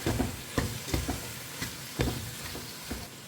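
Prawns stirred into an onion and tomato masala in a pan: a series of sharp scraping and clacking strokes from a utensil over a steady, soft sizzle, close by with no talking.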